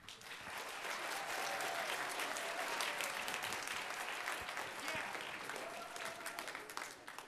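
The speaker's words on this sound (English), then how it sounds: "How about another round of applause for Rebecca and Hannah on flute?" An audience at an elementary and middle school choir festival applauds steadily, a broad wash of clapping that builds quickly and holds for several seconds before thinning out, heard somewhat distant and soft.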